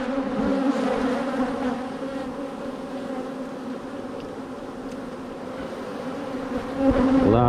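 Honeybees at an open beehive during a hive inspection make a steady, dense buzz close up. The drone holds constant throughout and swells slightly near the end, with no voices.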